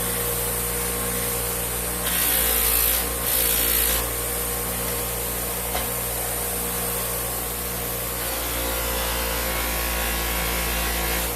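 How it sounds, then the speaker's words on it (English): A bench buffer drones steadily as aluminum is polished on a sewn cotton wheel loaded with Tripoli compound. A brighter rubbing hiss comes in when the piece is pressed to the wheel. "we're going to switch over to the sewn cotton wheel with the Tripoli compound and try the finished piece that we had started on"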